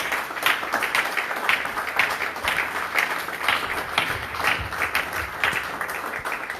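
A congregation claps and cheers in praise of the Lord during a morning prayer, dense continuous applause with no clear talk rising above it.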